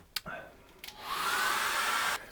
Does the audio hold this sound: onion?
no